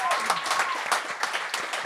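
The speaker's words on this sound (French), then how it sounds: "on peut l'applaudir pour ça." Studio audience applause on a comedy talent show, a steady dense patter of clapping throughout with some crowd noise mixed in.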